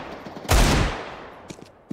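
A Galil Ace rifle in Counter-Strike 2 fires one loud, close shot with a long decaying tail, followed by a few faint clicks and small impacts.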